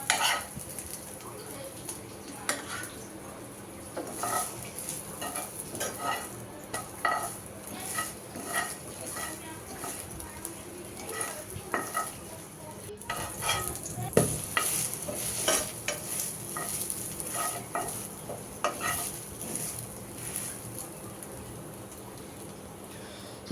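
Slices of egg-dipped bread fry in a pan with a soft, steady sizzle, broken by frequent close clinks and scrapes of a utensil against the pan.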